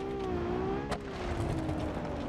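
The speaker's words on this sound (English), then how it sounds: "I love the way this engine sounds" An offroad truck engine fitted with mufflers in the BeamNG driving game hums in a low, steady drone that rises and falls slightly, fairly quiet, with one sharp bang near the start and no talking.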